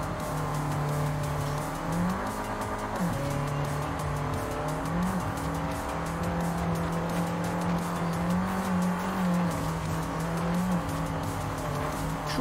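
A Volkswagen Golf races in Forza Horizon 5, its engine droning loud and close with rising and dropping revs through gear shifts, tire squeal mixed in, and no talking.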